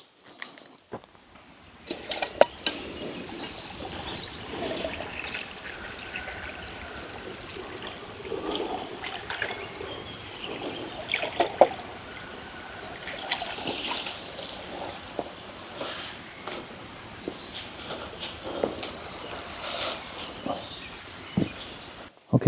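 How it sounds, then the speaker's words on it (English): A woodland stream trickling and babbling steadily nearby, with occasional splashes and bright drips over a continuous soft flow. "there's running water there, so it's actually really clean. There's a good flow"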